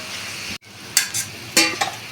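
Fish curry gravy cooks in a pan, a soft bubbling sizzle broken by a sudden dropout, then a few louder hissing bursts and clinks as the pan is handled; no talking.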